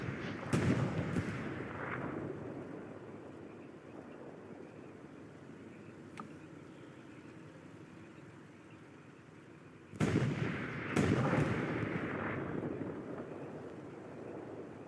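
Tank cannons fire in the World War II video game Hell Let Loose, with sharp booming shots that arrive in clusters and roll away in rumbling echoes between quieter stretches.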